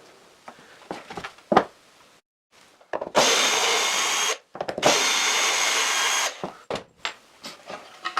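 A power drill whirs through wood into a backing board to prevent tear-out, in two sustained bursts, close and loud, framed by clicks, knocks and handling noises.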